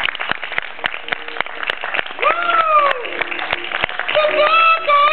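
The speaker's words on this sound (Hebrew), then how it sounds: "כל הקהל נורא אוהב אותך ומוחא לך כפיים" A theater audience claps in steady scattered applause at a children's show, with voices calling out over it and swelling in places.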